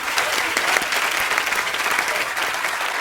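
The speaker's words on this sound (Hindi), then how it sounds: "जोरदार तालियां इस बात के लिए।" Studio audience applause on a televised comedy show, a thick, loud, sustained wash of many hands clapping together with faint crowd noise mixed in.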